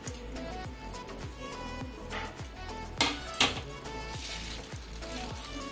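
Spoon scraping and knocking steadily against a pan or bowl as spices, coriander powder, garam masala and ginger-garlic paste are mixed into chicken leg pieces, a repeated close rhythm of taps with a faint sizzle underneath.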